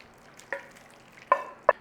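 Rinsed lentils and chicken pan juices being stirred in a frying pan, with three short scraping stir strokes and a light sizzle underneath, close and moderately loud with no one speaking.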